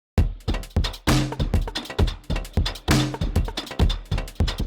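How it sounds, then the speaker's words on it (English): Drum loop mangled by the Graindad granular effect plugin, punchy choppy hits in a fast, uneven stuttering rhythm with bright noisy bursts, loud and alone. "it affects the sound in a way that takes the original drum loop but mangles it and make it something different"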